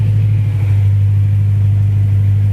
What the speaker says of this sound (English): The sound of a V8 never gets old, especially when it's a V8 from BMW.